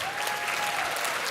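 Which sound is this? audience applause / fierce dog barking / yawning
audience applause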